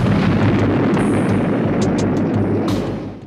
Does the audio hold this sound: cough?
no